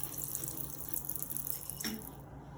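Tap water runs steadily into a sink during surgical handwashing, a soft continuous splashing hiss with a brief brighter splash near the end.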